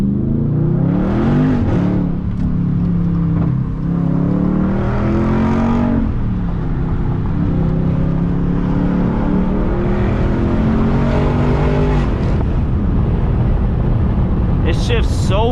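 A 2021 Dodge Charger Scat Pack Widebody in track mode, its V8 engine droning loud and close from inside the car while it revs up and down through harsh shifts.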